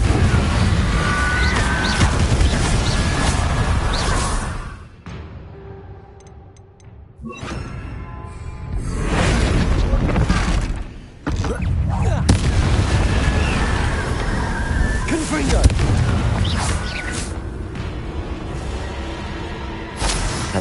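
Repeated fiery blasts from the Confringo spell in the Hogwarts Legacy video game, loud booming bursts filling most of the stretch, broken by two short quieter gaps, with game combat noise throughout.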